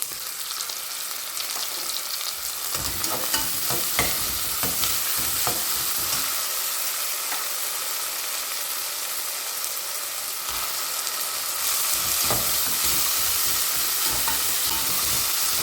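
Ginger garlic paste fries in a pan for a mutton gravy, giving a continuous loud sizzle with frequent spoon scraping and stirring clicks throughout.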